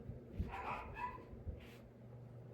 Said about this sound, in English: had to get the dogs. They were barking.